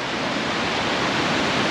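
A mountain waterfall in Kyrgyzstan roars as a steady, loud, broadband rush of water, continuous and close, with no voices over it.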